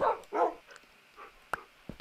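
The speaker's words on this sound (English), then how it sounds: "Dogs." Dogs in the Minecraft video game give several short, sharp barks and yips in quick succession, followed by a couple of brief clicks, all faint and with no talk over them.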